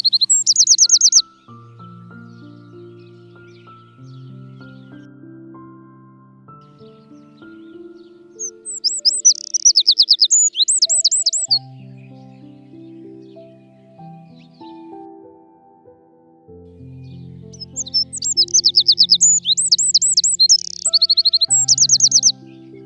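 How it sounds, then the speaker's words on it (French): A Eurasian wren sings outdoors on a June nature walk at Plaines-Villes, Ploufragan: three bright, rapid trilling bursts, loud and close, separated by quieter stretches of lower tonal sound. "Troglodyte mignon"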